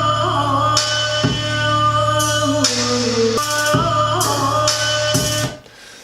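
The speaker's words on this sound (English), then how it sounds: "he makes just some extremely hard bass drop trap, and it sounds like this" Hard bass-drop trap music plays loudly, with a deep sustained bass line under punchy drums and bright synth bursts, cutting off abruptly at the end.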